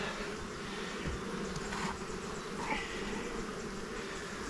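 Honey bees buzz steadily at an open hive during a brood frame inspection, a dense continuous hum that holds even and close throughout with no voices.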